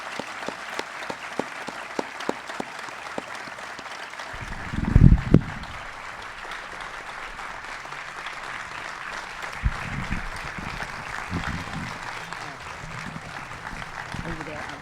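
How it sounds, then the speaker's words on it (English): Warm applause fills an award ceremony hall, a long steady patter of many hands, with a louder burst near the middle and a few voices speaking briefly beneath it. "Let's give her another warm round of applause."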